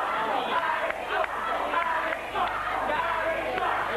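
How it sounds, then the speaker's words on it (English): A live wrestling crowd at a Frontier Wrestling Alliance show jeers and shouts at a wrestler, a dense, loud wash of voices that swells and dips throughout. "As the crowd let Alex know exactly what they think about him"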